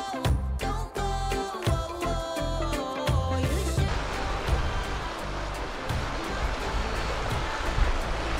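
Sea surf breaking close by on a beach in Portugal, a steady loud broadband wash that starts behind music-like tonal sounds in the first few seconds, then continues alone as a dense roaring rush.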